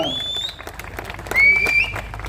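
A crowd claps at an election rally for an independent candidate in Sawantwadi, Maharashtra, with a dense burst of applause and a few shrill whistles rising over it, swelling briefly near the end.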